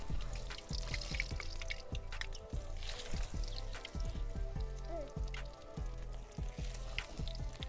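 Kadam flower petal fritters frying in hot oil, a steady close bubbling sizzle with dense crackling throughout, no talk.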